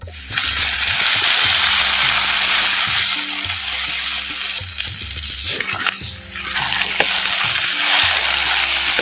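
Marinated bitter gourd pieces go into hot oil with shallots and curry leaves, giving a loud, close, continuous sizzle with stirring and a brief dip in intensity partway through.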